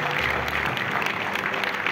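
An audience gives steady, dense applause to honour a young Kathak dancer at an awards event, a continuous wash of clapping from a crowd with no voices standing out.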